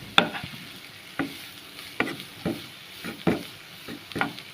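Maggi noodles stirred in a hot frying pan, with a spoon scraping in steady strokes about once a second over a soft sizzle, close and alone.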